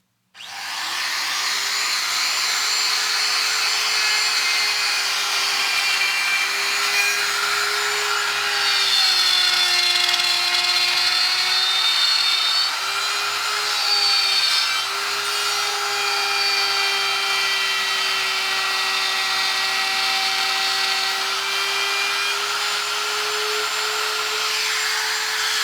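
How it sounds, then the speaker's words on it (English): A router cuts a slot in wood with a continuous high-pitched whine that holds steady for the whole stretch, shifting slightly in pitch as the bit moves through the workpiece. It is close and loud, and no voices are heard. "and now I take my router, which is already set,"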